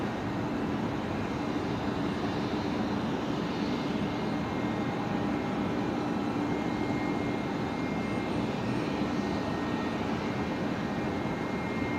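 At Brisbane Airport, a Qantas A330 airliner's jet engines give a steady, continuous roar heard from some distance, holding an even level throughout without any talking.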